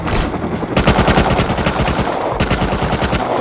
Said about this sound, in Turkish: Atarım ben vurayım onu.